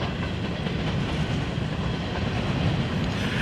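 Close and loud, a lengthy mixed freight consist of hoppers, boxcars, flatcars and tankers keeps passing on a Northeast Alabama line, its even roar and rattling wheel clatter holding throughout with nobody speaking.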